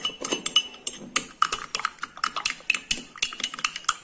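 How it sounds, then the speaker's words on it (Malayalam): A spoon stirs cornflour into milk in a bowl, giving quick, light scraping and clinking taps in an uneven, busy rhythm, close and fairly quiet, with no voices. "എന്നിട്ട് നല്ലതുപോലെ കലക്കാം."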